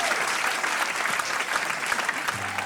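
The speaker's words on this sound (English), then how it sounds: "I'm gonna have to throw an extra bar in these songs to allow for all this clapping after the breaks" Audience at a live bluegrass show clapping after a song, a dense, even burst of applause from a close crowd, steady throughout with faint voices underneath.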